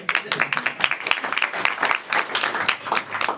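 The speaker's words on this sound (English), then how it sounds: "Clap for Steve at the bar." Audience applause at a live comedy show, a steady wash of many hands clapping for a man at the bar, fairly close and sustained for the whole stretch with no talk over it.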